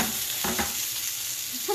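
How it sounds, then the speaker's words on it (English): Chicken ballotine with peppadew, basil and feta frying in a pan, a steady soft sizzle with a couple of brief stirring bursts near the start, close and moderately quiet throughout. "make sure the whole thing is frying nicely."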